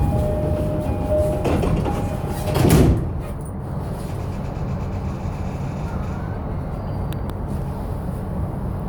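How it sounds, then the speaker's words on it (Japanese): The sliding doors of an E233 series 7000 commuter train on the JR Kawagoe Line close inside the car, a brief thud and rumble around the middle of the clip over steady cabin noise, with a chime-like tone beforehand. "1番線ドアが閉まります。"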